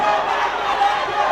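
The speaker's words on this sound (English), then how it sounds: "And the fans are cheering." Fans cheer at a U19 boys' African Nations volleyball championship match between Gambia and Morocco, a dense, loud crowd roar sustained throughout the short moment.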